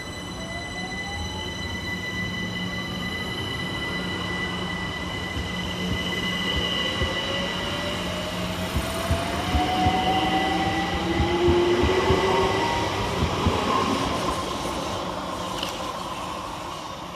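A London Overground class 378 electric train pulls out of Anerley station, its motors whining as the pitch climbs steadily, with wheel squeal and rolling rumble building under a continuous loud drone.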